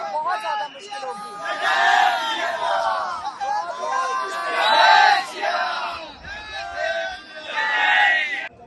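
A huge crowd of devotees at the Ram Mandir temple chants and shouts in loud, surging waves, with voices rising and falling together close by.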